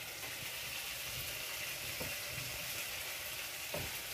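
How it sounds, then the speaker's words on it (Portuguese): Garlic fries in a home-kitchen pan with a steady, dense sizzle that runs evenly throughout, soft and close, with faint stirring clicks and no talk. "O alho já fritou."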